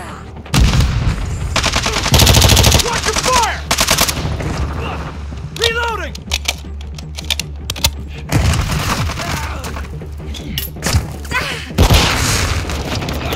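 Heavy gunfire and booming blasts in Call of Duty: Modern Warfare 2 Domination on the Shoot House map, with loud automatic bursts and explosions running almost continuously, and brief game voice callouts in between.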